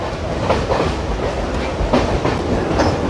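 A Kolkata Circular Railway train pulls into Kolkata station with a loud, steady close rumble and rhythmic clickety-clack of wheels over rail joints.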